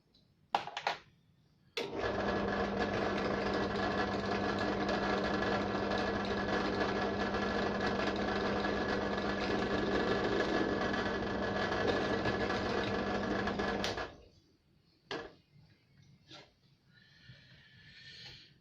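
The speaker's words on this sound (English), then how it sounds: "Helps if you put the drill bit in properly." A power drill whirs steadily into timber for about twelve seconds at a constant pitch, with short clicks and bursts of motor noise before and after.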